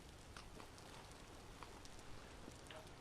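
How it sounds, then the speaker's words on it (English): Steady rain falls in the survival game Vintage Story, a soft, even hiss of drops with faint scattered patters, constant throughout and with no voices. "Raining a lot."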